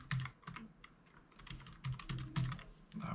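Keys tapped on a computer keyboard while entering a password, a quick run of close, light clicks in uneven bursts, quiet and with no voices.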